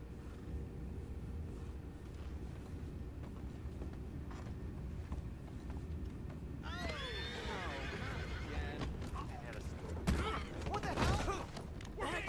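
In the Red Dead Redemption 2 video game, horses whinny loudly partway through over steady game ambience and hoof clatter, with a second burst of neighing near the end.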